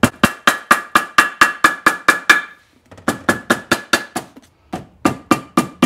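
A hammer strikes gasket material laid over a sharp edge of a 105-year-old Maytag upright engine to cut a gasket: rapid, evenly spaced taps in three runs with brief pauses, crisp and close.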